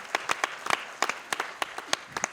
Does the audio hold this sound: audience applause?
yes